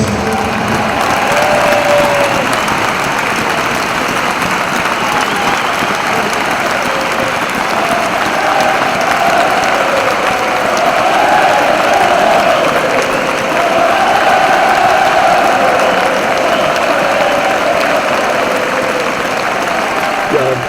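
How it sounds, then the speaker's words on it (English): A football crowd at a Blackpool match applauds as a substitute comes on, a broad, steady wash of clapping and cheering that holds at an even, loud level for about twenty seconds. "Obviously you're going to get a massive cheer"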